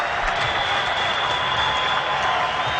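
A cricket crowd in the video game Cricket 2002, South Africa against Australia in a test match, keeps up a steady, broad roar of cheering and applause throughout, loud and continuous with no breaks.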